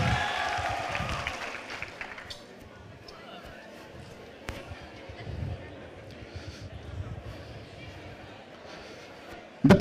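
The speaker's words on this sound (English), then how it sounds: "Please give yourself a good round of applause." An audience at a youth forum event claps in a broad wash of applause at the start, which fades after about two seconds into murmuring crowd noise and voices.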